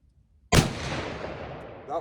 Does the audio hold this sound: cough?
no